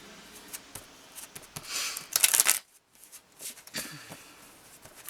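Tarot cards being shuffled by hand in quiet surroundings, a run of soft papery riffles and slaps that builds to a dense burst near the middle, stops briefly, then resumes more lightly.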